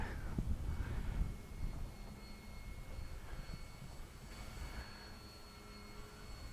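A model Gloster Gladiator biplane flying at half throttle on a blustery, windy day, its engine a faint, steady, distant drone mixed with wind noise throughout.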